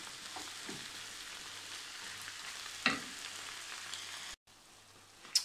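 Vegetables and garlic sautéing gently in a pan for tacos, with a soft, steady sizzle, a few stirring scrapes and a brief drop to near silence before the frying resumes.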